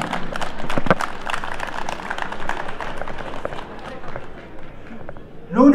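An audience at a band's anniversary ceremony in a convention centre claps steadily in a dense, continuous wash of applause that holds for several seconds and then fades toward the end.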